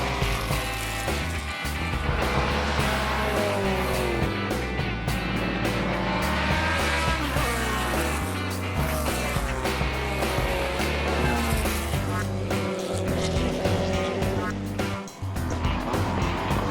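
Classic race cars at the 2015 Tour Auto on a hot day, including Alpine straight-fours, Porsche and BMW sixes, V8s and V12s, roar continuously with rising and falling engine notes as they accelerate and pass close by.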